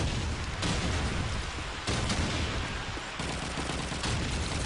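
Shotgun fire in a competitive team shooter match comes as loud, dense bursts of gunfire over a continuous noisy din, with a few distinct booming volleys.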